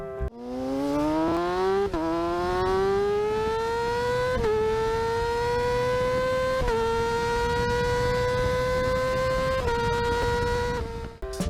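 A high-pitched sport motorcycle engine revs up repeatedly, climbing through several quick gear shifts with a loud, screaming whine.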